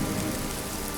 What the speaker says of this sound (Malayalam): ഞാനറിയാതെ എന്നിലേക്ക് പെയ്തിറങ്ങുന്ന ഈ മഴയുടെ ഓരോ തുള്ളിയും എന്നോട് പറയുന്നു